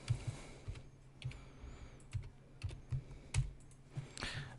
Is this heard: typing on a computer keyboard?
yes